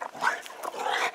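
A dog makes short, faint whimpering and grumbling noises while playing, a few quick bursts close to the microphone.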